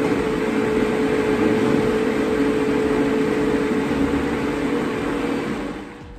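A Vitamix blender whirs at high speed in a home kitchen, a loud, steady motor drone that carries on without a break before easing off at the end, with no voices.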